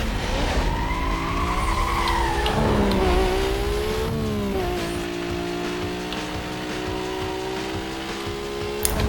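A Toyota Supra races in the Need for Speed Most Wanted video game, its loud engine note rising and falling through gear changes with tire squeal and skidding, sustained and close throughout with no talking.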